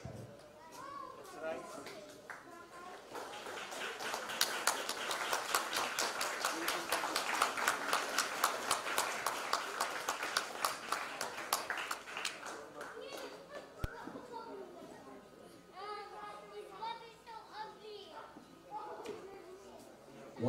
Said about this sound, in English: a round of applause for our Golden Jubilarians